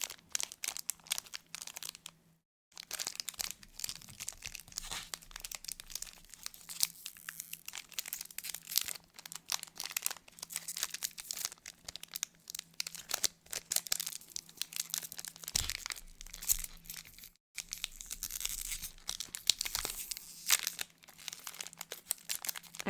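Plastic bag of a Magic: The Gathering Chocobo bundle being torn open by hand, long bursts of close crinkling and tearing with a couple of brief pauses.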